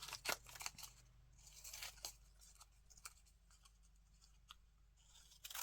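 Scissors snip through paper while faux stamps are cut out for a scrap or junk journal, giving a quiet run of separate crisp cuts and crunches at close range with brief pauses between them.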